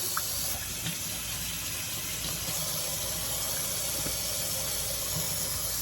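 Tap water runs continuously into a sink, a steady close hiss and splash while chicken gizzards are rinsed by hand, with no talking over it.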